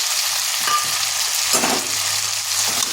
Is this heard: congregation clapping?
no